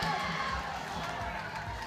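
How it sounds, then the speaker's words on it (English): Crowd noise at a powerlifting competition, the British Masters Classic, as the crowd gets behind a female lifter coming out for her lift; a steady, dense roar of cheering and chatter fills the hall throughout. "Wow, the crowd's really getting behind Dev."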